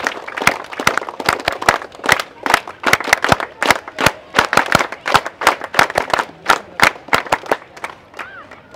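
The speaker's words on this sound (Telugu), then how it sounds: "Give 3 cheer claps." A school audience at an International Yoga Day celebration claps together in sharp, loud, rhythmic bursts of cheer claps, repeating in quick patterned groups with crowd noise between them.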